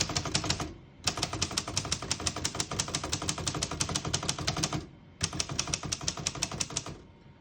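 A 1938 Royal Model U portable typewriter is typed on in fast, crisp bursts of close clacking keystrokes, broken by two short pauses.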